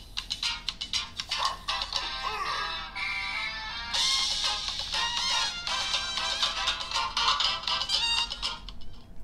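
A ringtone melody plays loud and close through the stereo speakers of a Tecno Camon 20 phone, with bright, busy tones that run steadily for several seconds and no talking over them.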